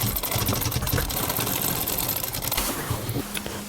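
Sewing machine stitching fabric during tailoring work, a steady mechanical whirring hum running nearly the whole time at close range, with no talking over it.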